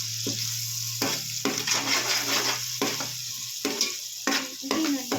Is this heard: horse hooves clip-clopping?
no